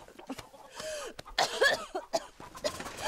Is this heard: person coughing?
yes